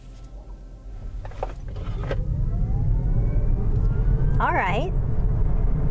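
A Hyundai IONIQ 6 electric car in sport mode accelerates hard, with a rising motor whine over steady road and cabin rumble that grows louder; a person speaks briefly near the end.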